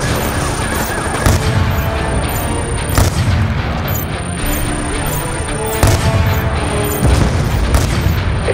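Dense gunfire crackles and booms in a Call of Duty: Black Ops 2 battle escorting a convoy under sniper fire on an overpass, with loud repeated shots and heavier blasts layered over continuous combat noise.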